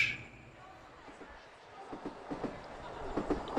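Train running on rails as a sound effect under narration: a faint, low rumble with soft rhythmic clicks that grow slightly louder toward the end while a voice speaks over it.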